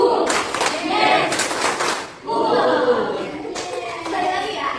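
Students in a classroom clap their hands rhythmically in a clapping game, with bursts of clapping interrupted by a short pause and children's voices heard alongside.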